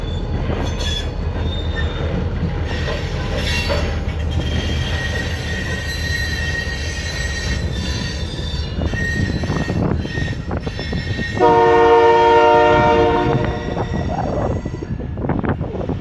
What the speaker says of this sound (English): I think I see a train coming. It might be the BNSF Manitoba